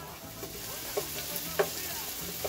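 Sofrito with a fresh garlic clove sautés in a pan for a ripe plantain and ground beef pastelón, a soft steady sizzle broken by a few light scrapes of stirring, close by and with no voices.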